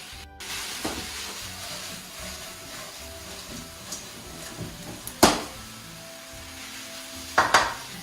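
Tofu and onions frying in a pan with a soft continuous sizzle, broken by a few sharp metallic clanks of the pan being shaken and utensils knocking.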